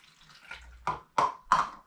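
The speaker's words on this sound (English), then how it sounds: "So I'll add a cup of water to" Cup of water poured over 500 grams of strawberries in a jug for homemade strawberry cordial, three short close splashing gushes in quick succession after a faint trickle.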